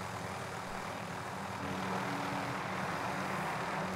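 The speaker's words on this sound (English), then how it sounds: "This helicopter is chasing me." A helicopter chasing the player in a Call of Duty match gives a constant droning engine and rotor roar, steady and fairly close throughout, with no talking over it.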